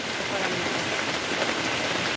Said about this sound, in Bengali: বৃষ্টি শুরু হয়ে গেছে দেখেন কি বৃষ্টি